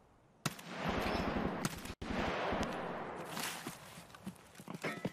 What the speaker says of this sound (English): You can hear the mag dump